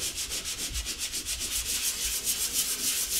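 Plasterboard wall filler is sanded by hand with a sheet of sandpaper, giving a close, steady rhythmic scratching rasp of quick back-and-forth strokes, with no other sound.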